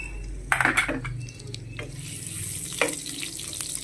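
Onion sautéing in a pan, with a steady low sizzle and a few sharp utensil clanks and stirring scrapes near the start and again later, close by with no talking.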